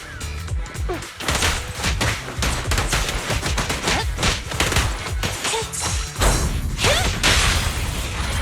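Dense, continuous gunfire from Zenless Zone Zero, rapid loud shots and thumps layered over one another without pause.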